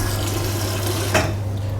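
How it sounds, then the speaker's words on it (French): Water runs steadily from the tap of a Berkey gravity water filter, a continuous close splashing stream under a low hum, with a brief bright clink about midway; no one speaks. "Je vais valider que mon robinet ne fuit pas."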